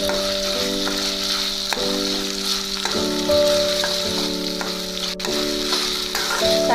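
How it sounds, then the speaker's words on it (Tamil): Chopped tomatoes sauté in hot oil for a ridge gourd masala gravy, giving a continuous close sizzle with a faint steady hum beneath and occasional soft ticks. "தக்காளி நல்லா ஆயிலே வதக்கலாம்."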